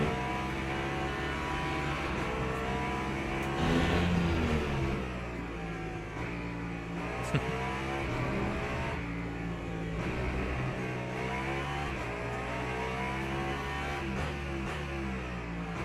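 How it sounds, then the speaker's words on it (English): Race cars lapping the track in the Le Mans Ultimate game, with engines droning and shifting pitch as they accelerate and pass, a steady mid-loud roar with no talk. "you just want to watch cars go fast around a track"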